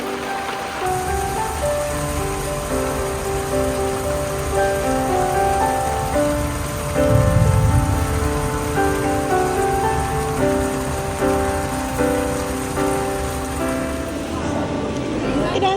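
Summer rain falls steadily over a small Tuscan village, a loud, continuous wash of drops on surfaces that holds its level throughout, with a tonal hum running underneath.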